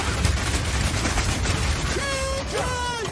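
A rapid fire attack in Path of Exile 2 crackles as a dense burst of quick shots, followed by sharp ringing tonal whooshes of spell effects near the end.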